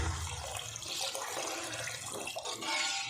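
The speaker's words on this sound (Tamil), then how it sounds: "2 டம்ளர் அளவுக்கு நான் தண்ணி சேர்த்துருக்கேன்." Two tumblers of water splash and pour steadily into a cooking pan for egg curry for a few seconds, a continuous close-up gushing with no talking.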